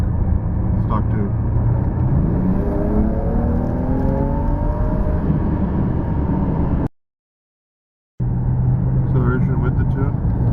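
A BMW E90 335i running an MHD flash tune accelerates hard, its engine note climbing steadily in a dense, continuous drone before cutting out briefly to silence and then resuming.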